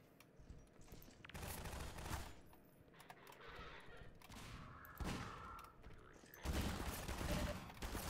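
Gunfire in Half-Life 2 comes in several bursts of loud, sharp rapid shots separated by short pauses.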